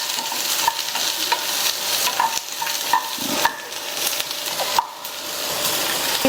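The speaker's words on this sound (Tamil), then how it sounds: "இது கூட கொஞ்சமாக மஞ்சள் தூள் சேர்த்துட்டு ஒரு 2 நிமிஷத்துக்கு நல்ல எண்ணெயிலேயே வதக்கிக்கங்க" Thinly sliced eggplant sautés in oil with a little turmeric, giving a steady loud sizzle broken by repeated scraping stirs and light clinks of a spoon against the pan, with no talking.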